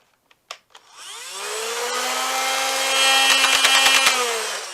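Nerf Rival Charger blaster flywheels spinning up: a few clicks, then a rising electric whine that climbs to a loud steady buzz, with a quick run of rapid mechanical clatter near the end, no talking.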